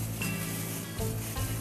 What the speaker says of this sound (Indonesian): Udah mendidih nih airnya.